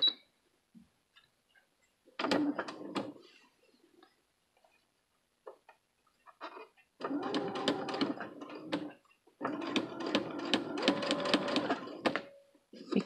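Sewing machine running a straight stitch with a presser foot, heard in several short bursts of rapid needle chatter separated by pauses, the longer runs near and fairly loud.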